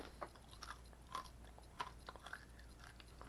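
Quiet, irregular crunches of chewing dehydrated banana chips, a few sharp bites spaced over a few seconds with no talking.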